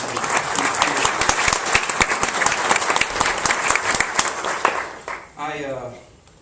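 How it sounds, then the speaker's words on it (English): Audience applause at a blood cancer conference honoring patients and survivors, a dense, loud burst of many hands clapping that fades out near the end as a voice begins to speak. "So if we can give a round of applause to everybody"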